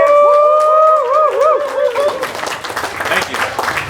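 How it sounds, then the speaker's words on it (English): Audience claps at a car awards event during Art Basel Miami, a short burst of clapping and crowd noise following a moment of tonal sound and talk. "so hands of applause"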